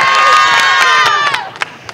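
A crowd at a girls' high school basketball regional final between Waupun and Omro bursts into loud cheering and shouting, then tapers off over a couple of seconds with a few scattered yells.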